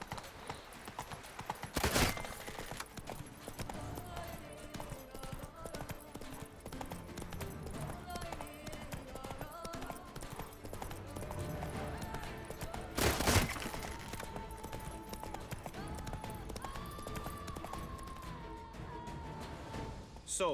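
Horse galloping in The Witcher 3: Blood and Wine, a fast, steady clip-clop of hooves running throughout with a couple of sharp crashing bursts, under music and occasional voices.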